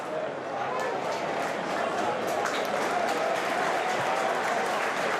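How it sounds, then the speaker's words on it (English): Oxford United fans applauding during a stadium football match against Sunderland, a broad, steady wash of crowd clapping and noise heard from a distance, with a commentator's voice running over it throughout. "being loudly applauded by the Oxford fans"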